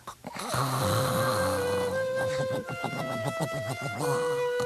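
Loud, sustained snoring with a droning, tonal rumble that rises and falls over several seconds.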